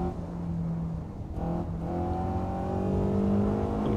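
A Eunos Roadster's naturally aspirated engine in the racing game Assetto Corsa revs steadily and loudly, its pitch climbing through the gears with a brief dip near the middle, heard up close with no voices.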